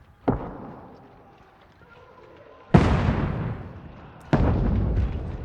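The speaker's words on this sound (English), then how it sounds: "what's up with these cannon shots?" Three cannon shots boom in the medieval game Kingdom Come: Deliverance 2, each a sharp, loud blast that fades into a long rumbling tail, spaced a couple of seconds apart.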